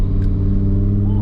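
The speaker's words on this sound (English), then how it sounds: "Let's put the window down, put the car into neutral, and yep, that sounds absolutely amazing." A Lamborghini Performante engine idles in neutral inside an underpass with the window down, a loud, deep, steady rumble with strong low harmonics echoing close and unbroken.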